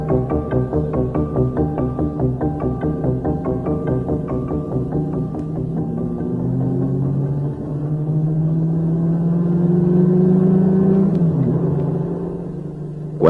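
A car engine hums and throbs steadily as the vehicle drives, with a low rumble that gradually swells and shifts pitch as it accelerates, alone and close throughout.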